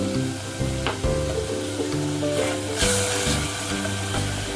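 Minced meat fries in a pan with a steady loud sizzle, punctuated by a few scraping stirs and clinks of a utensil against the pan, with no talking.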